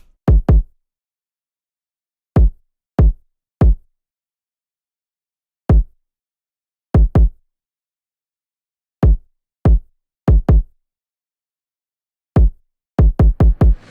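Clipped, distorted drill kick drum from the Tri-Freezer Atlanta 2 Culture Drum kit, soft-clipped in the mixer, hitting a sparse basic pattern of booming single and doubled thumps separated by silence.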